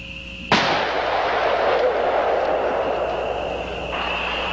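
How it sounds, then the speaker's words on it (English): Two .41 Magnum handguns fired at the same moment make one sharp, loud report that decays into a long reverberant tail, with a steady background tone continuing underneath. "you can shoot two guns at the same time"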